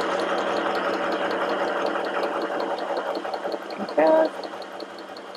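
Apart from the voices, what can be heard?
portable mini sewing machine FHSM 505 stitching fabric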